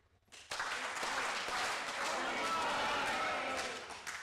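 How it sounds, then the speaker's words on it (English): An audience at an IIT Kanpur 45th reunion session claps a few sharp times in unison, then erupts into a loud, sustained crowd roar that carries on to the end. "clap with me 3 times and shout 45 as loud as you can"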